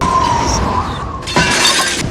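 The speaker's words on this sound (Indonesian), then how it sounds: "Mangkok yang dia pegang terlempar." A bowl is flung and shatters in a scene from a Doctor Strange film, a loud, sudden crash of breaking ceramic and scattering shards erupting over a dense, tense score halfway through.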